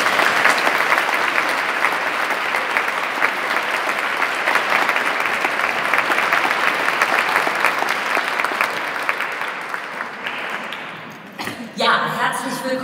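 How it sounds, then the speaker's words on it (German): A hall audience at an International Women's Day event in Hamburg gives sustained, loud applause for Herma Kühn, dense clapping that fades toward the end before a brief clatter and rustle. "nochmal ein ganz herzlicher Applaus für die wunderbare Herma Kühn"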